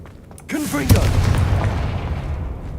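A Confringo blasting spell explodes in Hogwarts Legacy, a loud booming impact that follows a brief spoken word and rolls into a sustained rumbling tail.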